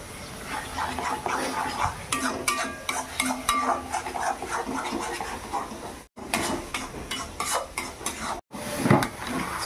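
Chicken frying in a pan at home: a sizzle runs under frequent scraping and clanking of a utensil against the pan, loud and close, with two brief dropouts.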